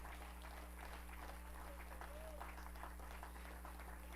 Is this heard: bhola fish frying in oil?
no